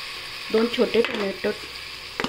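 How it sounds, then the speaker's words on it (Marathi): Garlic-ginger paste sautés in hot oil for a peas and paneer pulao, giving a steady close sizzle with a few brief louder bursts and faint tonal sounds over it. "लसूण आणि आल्याची पेस्ट टाकली, ती परतून घेऊया चांगली तेलात।"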